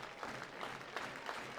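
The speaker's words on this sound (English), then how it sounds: "And here comes the slow clap for Stutzman." A baseball crowd at a Regina Red Sox versus Sylvan Lake Gulls game claps slowly in an even, rhythmic beat, heard faint and distant.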